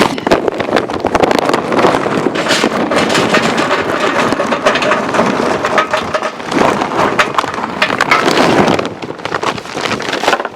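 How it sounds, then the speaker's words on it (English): Strong outdoor wind buffets the microphone beside a charcoal grill and chimney starter. It makes a loud, continuous roar with rumbling gusts that barely let up, and no voice is heard. "Hopefully this wind won't hurt me too bad today."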